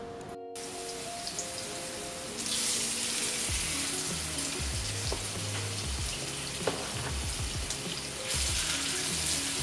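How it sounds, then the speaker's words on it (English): A pork chop sears in hot oil in a pan, giving a steady crackling sizzle with scattered pops that swells louder partway through, and low thuds and clatter of handling sound underneath. "we're gonna sear both sides of the pork chop"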